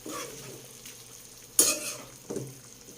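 Chicken adobo with saba bananas is stirred in a frying pan, a spoon giving two short scraping strokes over a soft background sizzle.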